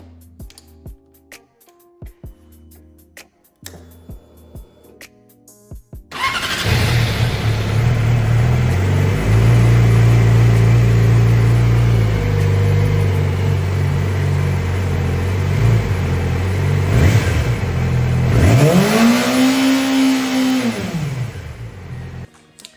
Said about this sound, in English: we'll start off the bike and just rev it for a little bit